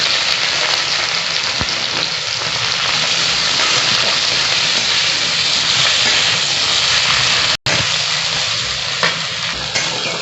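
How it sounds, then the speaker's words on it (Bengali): Onions frying in hot oil already seasoned with bay leaf, dried red chilli, whole cumin and cracked cardamom for a young jackfruit curry, a loud, steady, close sizzle with crackling that runs unbroken apart from one brief dropout. "ভাজা হয়ে গেছে, আমি পেঁয়াজ দিয়ে দিচ্ছি।"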